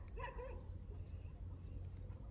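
Black dogs howl in the Vietnamese countryside, a short, wavering, mournful cry near the start that fades into steady low background noise.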